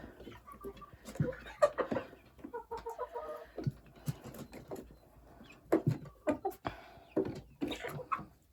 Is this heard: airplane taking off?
no